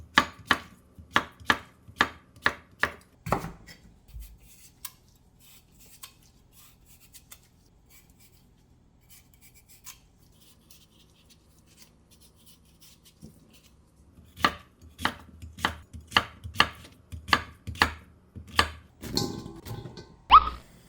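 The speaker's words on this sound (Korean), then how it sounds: "이렇게 깍둑 모양으로 이렇게 썰으세요" Rapid, crisp knife chops dicing cucumber on a cutting board in two bursts, with a quiet pause between them and no talking.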